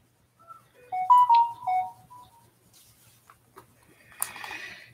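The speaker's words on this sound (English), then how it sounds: "This phone keeps making sounds." A phone chimes a short run of tonal Gmail notification beeps, a melodic jingle up close in a quiet room, followed by a brief hissy rustle.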